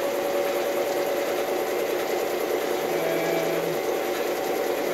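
A metal lathe turns axle steel at about 560 RPM with a fine feed, giving a steady, loud mechanical drone and whine with a brief lower tone partway through, and no talking.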